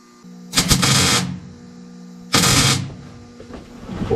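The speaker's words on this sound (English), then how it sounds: "I think I'm ready to start welding." Two short bursts of arc welding on thin, rusted vehicle roof sheet metal, each a loud crackling buzz lasting under a second, separated by a pause filled with a steady low machine hum.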